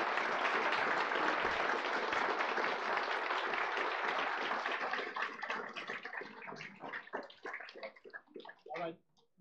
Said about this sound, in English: not to cut off the applause